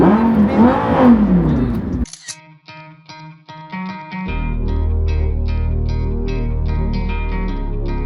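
A 2013 Lamborghini Gallardo engine revving close by, a sharp throttle blip followed by a steady, loud, deep idle drone; someone speaks briefly before the rev.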